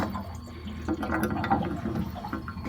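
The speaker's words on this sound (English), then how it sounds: "did you just hear those bubbles?" Water gurgles and bubbles steadily from the loosened pressure release valve of a tank water heater, a continuous close trickling fizz with small pops.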